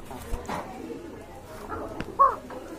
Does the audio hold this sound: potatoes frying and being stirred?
no